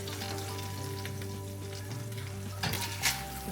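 A hamburger steak fries in a pan, giving a steady sizzle with a faint hum underneath, then a brief louder clatter near the end as the patty is flipped.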